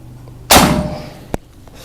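A single loud, sharp shot from a Monel big game air rifle unit with a long ringing tail, followed by a brief metallic click about a second later.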